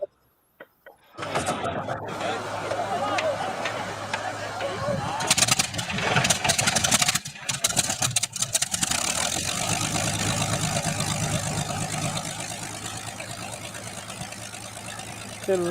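An engine cranks and catches after a brief silence, then settles into a steady loud idle with bursts of rough firing, as people talk over it.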